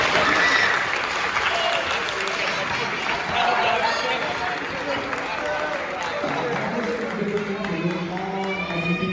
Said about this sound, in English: All SEP students, you guys deserve a round of applause.